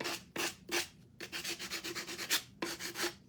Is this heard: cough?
no